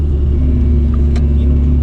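A Peugeot 106 Rallye's engine drones steadily from inside the cabin while driving, a loud, constant low rumble with no talk over it.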